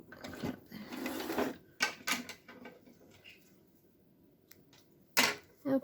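A sewing machine stitches a yarn cozy in short mechanical bursts, several quick whirring runs of stitches separated by quiet pauses, close and fairly faint, with no talk.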